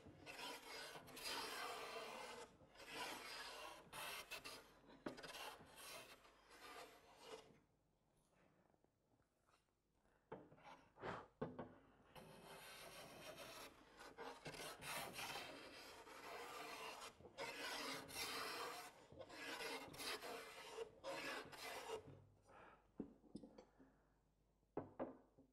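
Hand plane cutting heavier shavings off the edge of a wooden door, long rasping strokes repeated in a steady rhythm, close and fairly loud, with brief pauses and knocks between passes.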